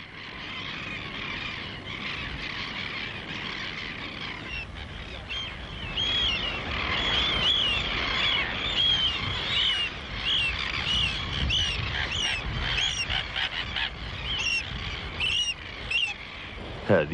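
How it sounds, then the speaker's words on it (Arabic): Young seagull chicks that cannot yet fly call on the shore of an island off Oman, a chorus of thin, high repeated peeps over a steady wind-like roar. "هذه أفراخ طيور النورس والتي لم يكتمل نموها"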